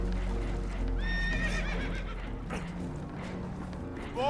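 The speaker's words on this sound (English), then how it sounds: "Horses are spooked, and we're taking on water." Spooked horses neighing in Red Dead Redemption 2, a shrill whinny rising over a low rumbling background with scattered hoof knocks, and a second neigh starting at the very end.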